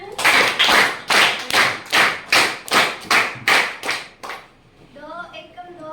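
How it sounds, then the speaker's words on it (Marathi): Students in a school classroom clap together in steady unison, about ten sharp, evenly spaced claps, before the clapping stops and a voice begins speaking. "त्याच्यासाठी टाळ्या वाजवा सगळेजण"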